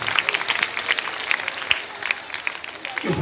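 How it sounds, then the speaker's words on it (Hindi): Audience at a girls' school idol installation ceremony for Basant Panchami claps steadily and densely throughout, a continuous patter of many hands close by. "तालियां बजाकर प्रणाम अर्पित करें।"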